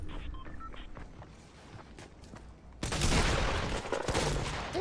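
Gunfire in the video game Fortnite comes as a rapid burst of shots, preceded by quieter scattered game sounds and clicks, loud and without speech.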